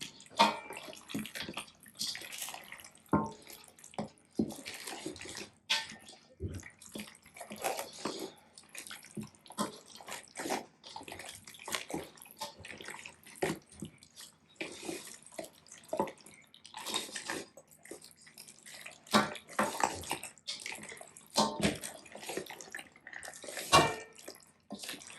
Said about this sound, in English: Just wash my hand.